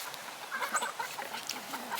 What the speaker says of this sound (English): Let's feed the chickens first.